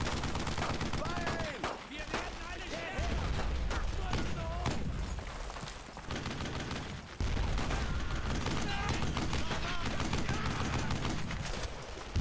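A squad fires in the World War II game Brothers in Arms: Road to Hill 30, with dense, steady machine gun and rifle fire mixed with battle noise and voices talking throughout.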